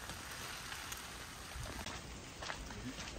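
Rain falling on Taketomi Island in Okinawa, Japan, a soft continuous hiss with scattered drips, fairly faint and steady with no voices.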